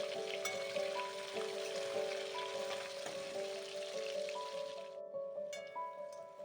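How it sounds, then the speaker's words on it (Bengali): Potato strips, salted and coated with turmeric, deep-frying in hot oil hiss and crackle steadily with a bright sizzling patter and faint tonal hum underneath, cutting off sharply near the end. "এবার এগুলোকে আমি এই ছাকা তেলে ভেজে নেব"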